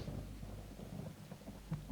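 Low, rolling thunder rumbles through a rainstorm, a deep continuous roar with soft rain noise over it and no voices.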